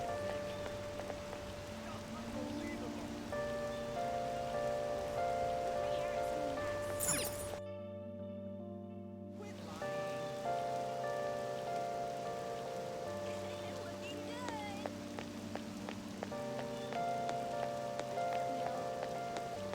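Steady rain falls in Persona 5 Royal, a soft constant patter spread under layered game music, with one brief drop to near silence partway through and no talking.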